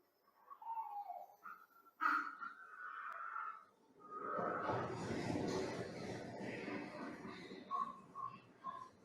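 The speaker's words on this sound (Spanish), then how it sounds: "Escuchamos los jacareos, los aleteos, los picotazos en el cuero" Griffon vultures in a natural park in the Spanish sierra squabble over a carcass: close, harsh calls and squawks, then a dense stretch of rustling, flapping and pecking sounds, with more calls at the end.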